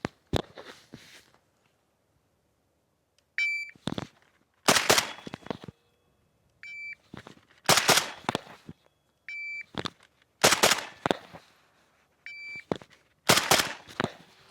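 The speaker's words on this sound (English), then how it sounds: "It's just gonna be a beep 2 shots." Shot timer beeps, each followed by a pair of loud, sharp AK-47 rifle shots, repeating several times in an evenly spaced drill with brief gaps of silence between strings.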